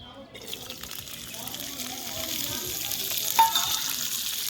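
Vegetables frying in hot oil in a pan for a Bengali fish curry, a steady hissing sizzle that swells after they go in and builds gradually, with a voice speaking over it.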